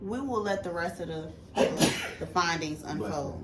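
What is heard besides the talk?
sneeze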